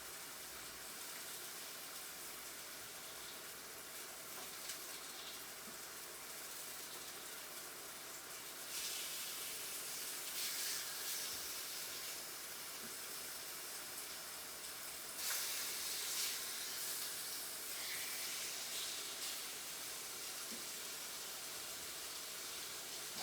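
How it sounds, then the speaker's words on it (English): Lemon chicken pieces seasoned with rotisserie chicken seasoning sizzle in a hot pan, a steady close hiss that swells louder twice and carries on without voices. "Get them right in the pan, and then I can probably sizzle them up"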